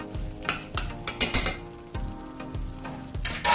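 Mushroom masala curry stirred in a pan, with a spoon scraping and clinking against the metal in several sharp strokes over a low, steady sizzle, close and without talk.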